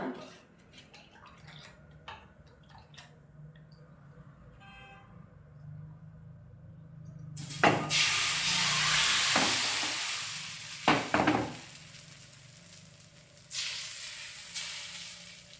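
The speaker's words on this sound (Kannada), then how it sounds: "ತವ ಬಿಸಿಯಾಗಿದೆ. ಈಗ ದೋಸೆ ಹಾಕೋಣ." Neer dosa batter hits a hot tawa with a sudden loud sizzle that swells and slowly fades. It follows a stretch of quiet kitchen clatter and small knocks.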